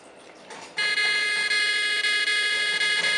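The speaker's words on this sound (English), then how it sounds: "An alarm is set off." A patient-monitoring alarm triggered when a Makey Makey sensor is disconnected: a steady, loud, high electronic buzzing tone starts suddenly and holds without a break, over faint background hum.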